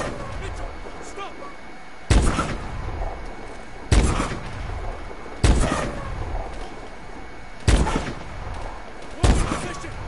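Heavy gunshots or blasts ring out in a slow irregular series of about five loud bursts, each decaying into a noisy tail, against a steady background din.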